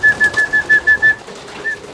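Racing pigeons cooing in a loft, a series of soft rhythmic calls with a steady whistling tone running through them, fading toward the end with no one talking.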